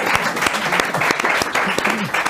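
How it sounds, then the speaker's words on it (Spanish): Audience applause fills a short burst at an interview-style comedy show, dense steady clapping with a few cheering voices mixed in, loud and close throughout. "Un aplauso para Gorro de Giorgio, por favor."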